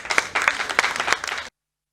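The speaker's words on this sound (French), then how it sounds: "Est-ce qu'on peut les applaudir, mesdames et messieurs?" Audience applause at a national dance festival in Ouidah, Benin, a dense burst of clapping that holds for about a second and a half, then cuts off.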